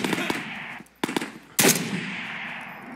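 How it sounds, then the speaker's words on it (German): Gunfire in the VR shooter Ghosts of Tabor: a few sharp shots, then a loud blast around the middle that rings out and decays, over a steady low background. "Oh, wer schießt? Wer schießt von wo?"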